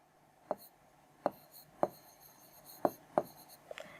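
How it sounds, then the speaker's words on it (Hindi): Chalk or a marker taps and strokes across a board in a chemistry lesson, five or six short distinct marks spaced about half a second apart, close and fairly quiet. "बाकी का मैं यहाँ लिख रही हूँ या फिर यहाँ लिख देती हूँ"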